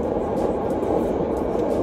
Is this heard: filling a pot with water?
no